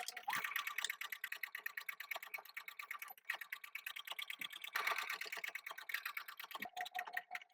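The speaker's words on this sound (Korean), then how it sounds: "창구멍 끝쪽 부분부터 시작해서 한 바퀴 돌려 박음질합니다" A sewing machine stitches around the opening of a fabric shoulder bag with a rapid, steady needle chatter. It runs close and continuous with a couple of brief pauses and speed changes.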